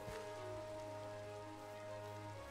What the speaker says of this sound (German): Auch wenn es gerade regnet.